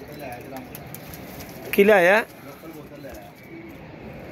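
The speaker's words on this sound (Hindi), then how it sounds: "ये बैठा हुआ है जी हरा कबूतर" A single short cooing call from a green pigeon kept among pet pigeons, rising clearly over steady background noise, with someone talking nearby.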